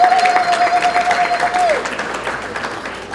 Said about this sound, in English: Can we give them a loud round of applause